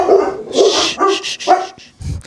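A dog barks several times in quick, sharp bursts, close by and fairly loud, with a short pause before a final bark.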